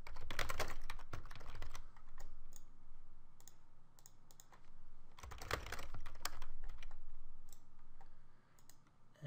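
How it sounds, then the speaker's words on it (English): Typing on a computer keyboard, close rapid key clicks in two dense bursts separated by quieter, sparser taps, with no voice over them. "I'm just going to type in a few extra messages."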